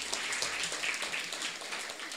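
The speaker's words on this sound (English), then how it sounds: "Give the Lord a big round of applause." A church congregation gives a round of applause, a fairly quiet, steady wash of many hands clapping in the hall.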